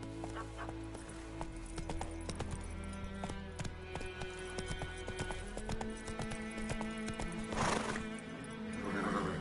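The horse Roach in The Witcher video game galloping, with rapid rhythmic hoofbeats under a steady game soundscape and a whinny near the end, loud and close.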